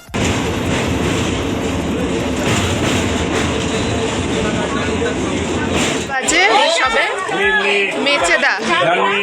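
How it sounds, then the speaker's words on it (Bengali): A Haldia local train runs over the Kolaghat bridge across the Rupnarayan river with a loud, steady rumble for about six seconds, then people talk nearby. "সেই ব্রিজের মধ্যে দিয়েই ছুটে চলেছে আমাদের হলদিয়া লোকাল ট্রেন"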